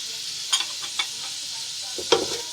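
Vegetables sauté in a pan with salt, chilli and garam masala, giving a soft steady sizzle broken by a few sharp spoon clinks and scrapes as they are stirred.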